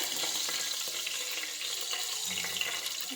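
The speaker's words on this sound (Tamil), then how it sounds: "எண்ணெய் சூடு இருந்துச்சு பார்த்தீங்கன்னா பச்சை மிளகாய் பட்டை கிராம்பு பிரிஞ்சி இலை" Green chili, cinnamon, cloves and bay leaf frying in hot oil for ghee rice, giving a continuous soft crackling sizzle with small pops, close up and steady, without voices.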